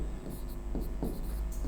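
Chalk or marker scratches across a board in short strokes during a classroom lesson, a few brisk scraping bursts over a low steady room hum.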